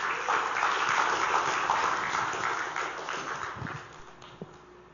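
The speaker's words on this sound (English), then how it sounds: "Can we give God a round of applause," A church congregation applauds at a sermon, steady clapping filling the room for most of the stretch and slowly thinning toward the end, with no talk over it.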